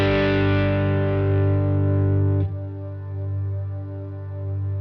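Heavily distorted guitar through a Neural DSP Archetype Rabea plugin, with a reverb freeze effect holding a dense sustained chord. A cut near the midpoint gives way to a thinner frozen drone that keeps ringing, loud and alone.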